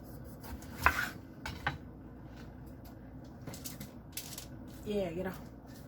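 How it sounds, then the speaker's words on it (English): Vegetables set down on a foil-lined baking sheet, giving a few light crinkly clatters and taps at close range, separated by quieter handling noise in a home kitchen. "I'm just putting it on a foil-lined baking sheet"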